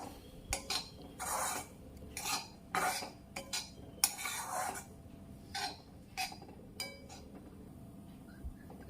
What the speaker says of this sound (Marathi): खोबरं भाजले गेलेलं आहे